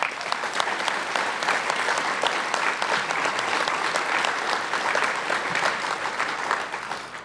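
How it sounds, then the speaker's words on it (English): A crowd at a hotel grand opening at UVA Darden applauds steadily for several seconds, a dense, even clatter of many hands clapping without a break. "He deserves a round of applause."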